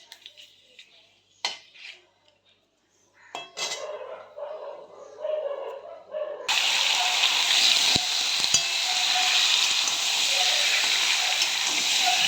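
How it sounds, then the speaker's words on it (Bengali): Chicken pieces go into a hot pan with bay leaves and start frying. Metal clinks and utensil knocks come first, then a loud, continuous sizzle fills the rest, close up, with no voices. "ভালো করে বেশ আমি লাল লাল করে আজকে চিকেনটা একটু ভাজা করব"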